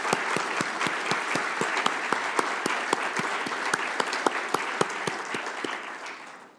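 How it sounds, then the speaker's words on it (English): An audience at the 12th EASA Rotorcraft Symposium gives a warm round of steady clapping that fills the hall evenly, with a few individual claps standing out before it fades. "And I'd like to give them a hand of applause."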